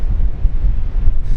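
Strong wind buffets the microphone outdoors near a boat, a loud, close, low rumbling roar that gusts and pulses unevenly throughout, with no voices.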